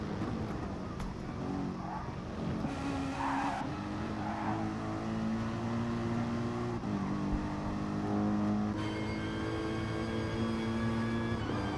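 A Mercedes race car in a driving video game at Kyoto Driving Park, its engine droning steadily with rising and falling revs and tires squealing through corners, loud and continuous, no voices.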